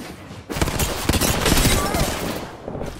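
Rapid gunfire in the Apex Legends video game, dense bursts of shots that sound close and loud, continuing steadily, with game voice lines mixed in.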